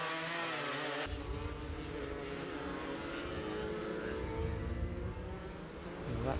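An Invader 210 racing kart with a blowing exhaust drones steadily on track at a Shenington kart club SuperPrix race, its buzzing engine note rising slowly in pitch as it stays close and prominent.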